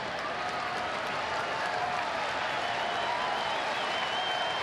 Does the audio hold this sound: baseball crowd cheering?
yes